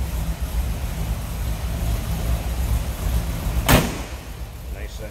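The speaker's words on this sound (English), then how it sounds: "Door closes. Sounds like a pickup truck should from 72 closing." Door of a 1972 Chevrolet C10 pickup truck slamming shut once, a sharp broadband thump near the end of the clip over a low steady engine rumble from its 350 V8.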